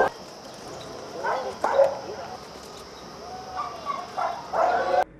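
Dogs at the Nepal Police canine division give a few short yips and whines in bursts, close by, over low background chatter and ambient noise.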